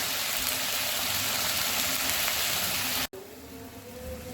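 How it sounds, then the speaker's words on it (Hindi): Masala of turmeric, red chili powder, coriander powder and green chilies sizzles loudly and steadily in a pan with added water for a chicken curry, then cuts off abruptly and continues as a quieter bubbling. "मसाला अभी पकने शुरू हो गया है"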